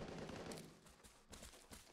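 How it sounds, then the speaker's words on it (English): Close gunfire in the video game Vigor, a burst of several quick, sharp shots in a loose rapid rhythm, loud and near. "Gunshots very close"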